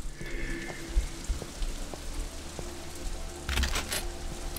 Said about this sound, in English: it's always raining now.